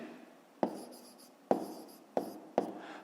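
Pen writing by hand on paper while solving a 5th-grade maths exercise: four sharp tapping strokes at irregular intervals, each followed by a brief scratchy scribble, close and quiet with no talking.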